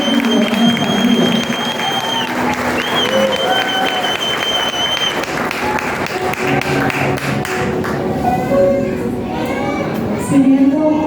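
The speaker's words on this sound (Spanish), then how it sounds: "quiero un fuerte aplauso para la hermana Martínez, la hermana Martínez y la hermana Sandra" A church congregation claps and cheers for the sisters, applause rising under a voice and lively background chatter, with children's voices and thumps nearby, busy and reverberant throughout.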